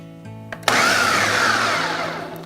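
A food processor grinds chilled gluten-free pie crust dough in one long whirring burst that kicks in abruptly after a couple of faint clicks, loud and close, slowly tapering off.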